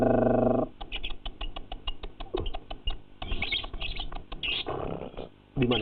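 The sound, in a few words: lovebird singing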